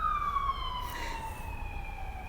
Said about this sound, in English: I'll wait for that siren to go past.